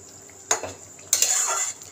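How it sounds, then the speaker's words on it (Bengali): Water poured into a pot of potato curry, two short splashy bursts with a clatter of the pan, the second longer than the first. "আমি আর একটু জল দেব।"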